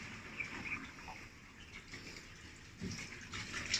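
An LG top-load automatic washing machine spins with water still inside its drum, giving a steady, faint rushing and sloshing wash of water with a few louder surges, heard alone.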